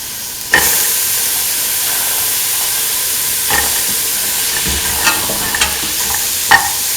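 Chickpea pieces and okra fry in a pan under a loud, constant sizzling hiss, with a handful of sharp scrapes and taps from a utensil as they are stirred.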